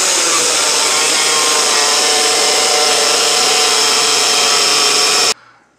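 A saw cuts through plastic in one loud, continuous, harsh buzz. It stops abruptly near the end, leaving a faint low hum.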